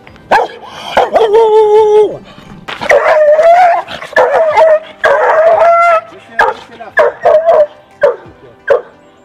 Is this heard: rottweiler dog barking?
yes